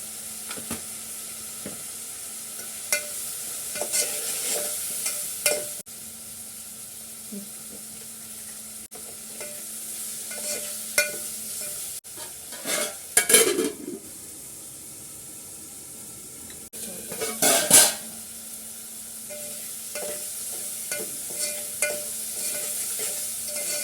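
Prawns frying in oil with turmeric for an Andhra-style dish, a continuous close sizzle broken by a few louder bursts of stirring and scraping in the pan.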